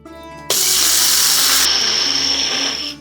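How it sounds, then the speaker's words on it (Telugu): A kitchen mixer grinder coarsely grinds Tenali Double Horse moong dal with cardamom pods, switching on abruptly after half a second into a loud, steady high-pitched whir that runs alone for the rest of the clip. "ఇప్పుడు ఈ పెసరపప్పు యాలకుల్ని ఫస్ట్ మిక్సీ చేసుకుందాం."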